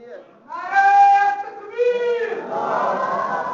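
A crowd at a religious gathering shouts a slogan in unison. Loud drawn-out voices rise together in two chanted bursts, then give way to a rougher roar of many people.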